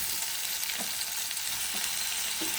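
Chopped tomatoes sizzling in a pan of frying onions for a baby corn masala curry, a steady loud hiss of hot oil with faint soft stirring knocks underneath, no talking.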